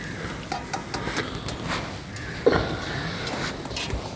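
Onion, tomato and coriander powder are stirred in a pan for chicken dum biryani: light, scattered scrapes and clinks of a spoon against metal, with one sharper knock midway, over a low kitchen background.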